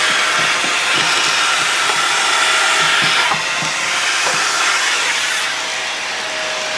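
A vacuum sucks rust and dirt out of a Datsun 240z engine bay, a loud, continuous airy roar with faint rattling of debris being drawn into the nozzle.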